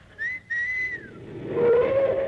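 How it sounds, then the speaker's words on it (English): A person gives a sharp two-part whistle to hail a taxi, a short high note then a longer one sliding down, followed by a low rumble of street or car noise. "if you want a taxi, just whistle"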